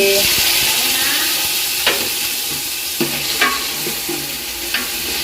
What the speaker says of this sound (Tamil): வெங்காயம் கொஞ்சம் வதங்கி வரத்தான் இப்போ நாங்கள் தக்காளி பழம் போடுவோம்